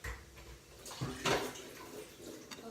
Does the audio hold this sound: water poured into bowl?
yes